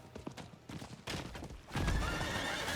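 A horse in the video game Diablo 4 whinnies, and its hooves clip-clop in an ongoing rhythm that grows louder and denser partway through, with no talk over it.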